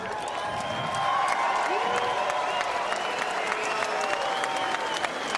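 A large home crowd in New Zealand claps and cheers for boxer Shane Cameron after his fight against David Tua, a dense, sustained wash of applause with a voice carrying over it, loud and continuous.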